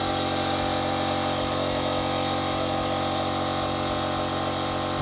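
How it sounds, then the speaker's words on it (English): A steady mechanical drone from an air compressor running paint spraying, loud and close with no pauses. "Yeah, compressor's noisy as hell."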